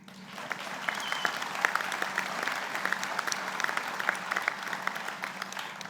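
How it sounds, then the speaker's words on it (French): An audience applauds at the opening ceremony of the ANCESU 2025 event, a steady, dense patter of many hands at moderate volume that holds for several seconds without speech. "et là, vous pouvez applaudir"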